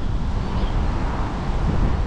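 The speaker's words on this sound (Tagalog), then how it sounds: "Ganda ng hangin dito Poy." Steady wind buffeting the microphone by a river, a constant low rumbling roar with no pauses.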